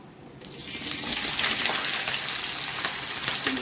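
Cumin seeds crackle and sizzle in hot oil as a tempering in a pan, a close, bright spitting hiss that swells after a soft start and holds steadily with small pops.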